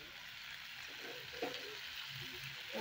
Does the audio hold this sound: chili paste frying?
yes